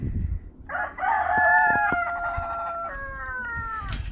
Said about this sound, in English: they both crowed at the same time